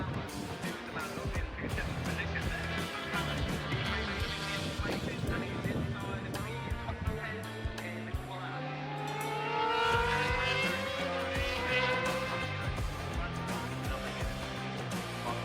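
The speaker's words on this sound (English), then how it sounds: "And it is Sam Hirst, number 91, who leads the way on the Team Valley 91 Racing Kawasaki" Kawasaki 600 racing motorcycles on a circuit in a club race, engines whining at a distance and sweeping past under a steady crowd and track ambience, with a rising pass near the end.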